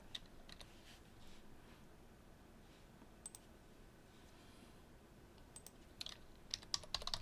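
Soft, steady computer keyboard typing with scattered light key clicks, quiet and close, growing a little busier toward the end as keys are pressed in quick bursts.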